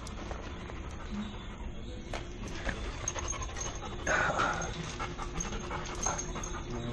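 A dog pants in quick, rhythmic breaths close to the listener, a steady huffing that continues throughout over a low background hum.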